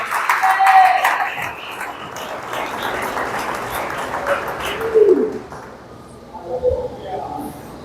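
A church congregation claps in scattered bursts after a preacher's call for applause, with voices speaking and calling out over the clapping.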